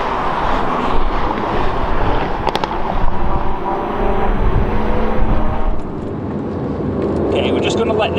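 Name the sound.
car driving past on track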